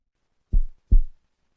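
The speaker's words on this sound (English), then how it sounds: "Heartbeats." A heartbeat sound effect in a song: two deep, close, muffled thumps in a lub-dub pattern, alone against silence.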